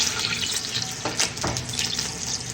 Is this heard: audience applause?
no